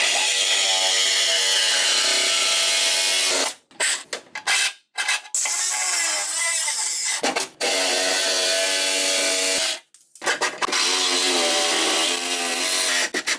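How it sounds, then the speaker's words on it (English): A loud power tool cutting out a metal brace on a Z06 Corvette grinds with a harsh, whining rasp, stopping briefly several times before starting again, close up. "we're just gonna cut that out real quick"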